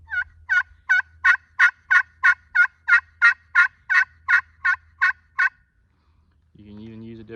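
A slate turkey call struck hard for loud yelps, about fifteen sharp, evenly spaced notes close up, followed by a brief low sound at the end.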